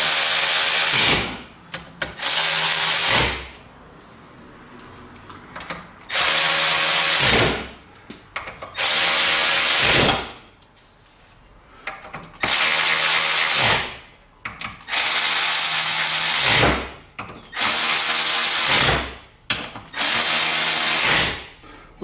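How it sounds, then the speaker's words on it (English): A power driver retightens screws on a Ryobi Expand-It cultivator during repair, in nine or so loud whirring bursts of a few seconds each, separated by short pauses of quieter handling. "So now we're going to retighten all these screws."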